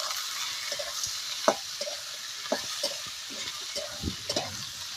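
Chopped tomatoes go into onions frying in a little oil for a small-fish and tomato curry: a low steady sizzle under scattered spoon clinks and a couple of sharper knocks, no voices.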